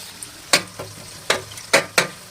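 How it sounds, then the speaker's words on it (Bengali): Green and red bell peppers fry in a pan with garlic and ginger paste, giving a low sizzle broken by sharp crackling bursts as they are stirred, close and fairly loud. "গ্রিন আর রেড বেল পেপার দিয়ে দিলাম।"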